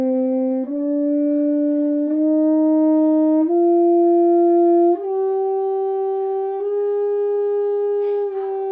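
A horn plays a slow legato line of sustained notes, each joined smoothly to the next as the pitch steps gradually upward, loud and close with no other sound.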